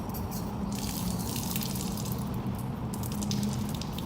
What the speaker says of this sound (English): you're going to fill your hand up with water, and then you're going to wash your arm beginning with your hand